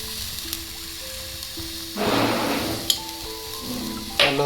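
Elephant yam leaf thoran with salt being stirred in a pan, a steady soft sizzle with a louder burst of frying and scraping as the spoon turns the leaves, along with a few light clinks.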